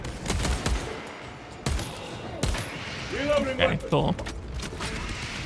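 Submachine gun fire in Warhammer 40K: Space Marine 2, with several sharp, loud shots spaced out over a steady game backdrop and a voice briefly speaking.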